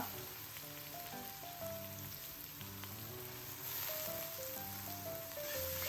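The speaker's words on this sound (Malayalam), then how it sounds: "കട്ട് ചെയ്ത് വെച്ചിട്ടുള്ള ഉള്ളി ഇട്ട് കൊടുക്കുക" Sliced onions hit hot oil with curry leaves, a steady moderate sizzle and crackle running throughout, with a soft melodic tone playing beneath it.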